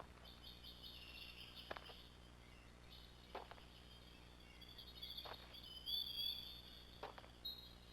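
Birds in the SCP-610 found-footage horror video game tweet faintly in short chirps over a steady insect-like drone, with quiet ambient patter in the background.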